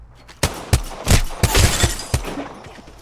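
Gunfire in the video game Apex Legends: several loud, punchy shots in an uneven burst, each sharp crack followed by a short ringing tail, close and prominent.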